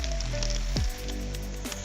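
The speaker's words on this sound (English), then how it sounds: "Turn down the heat to brown the onions" Onions brown in a hot pan with tomatoes, garlic and ginger over lowered heat for a vegetable pulao, giving a steady sizzle broken by a single clank near the middle.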